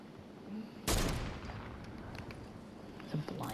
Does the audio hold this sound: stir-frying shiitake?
no